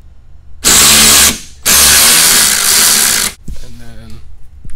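Power tool whirring loudly as it spins out a bolt on a Ford Escape hybrid battery pack, two sustained bursts of high-pitched motor noise separated by a brief pause, with someone talking afterward.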